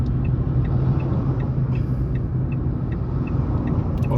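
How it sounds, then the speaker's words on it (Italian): A car coasting downhill in neutral at around 40–50 km/h with its engine idling, foot off the accelerator, produces a steady low road and engine rumble that is continuous and fairly loud throughout, with no talk. "sono in folle, si sente anche dal rumore di fondo dell'auto"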